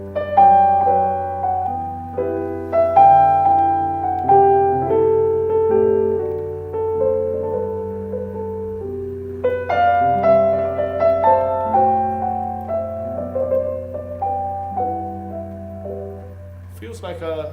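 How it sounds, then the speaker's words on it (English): The Sinfonia opening the second cantata of Bach's Christmas Oratorio, heard as a gentle, legato instrumental line over a steady low drone, moderately loud, with no voices. "This was the second cantata which opens with a Sinfonia"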